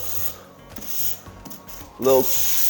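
Drywall corners being sanded smooth with a worn sander, a steady close rubbing scrape with a brief louder burst of abrasion near the end and no speech.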